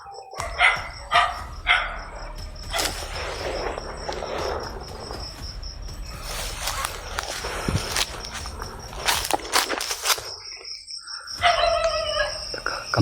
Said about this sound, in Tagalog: may pinakawalan silang aso dito mga idol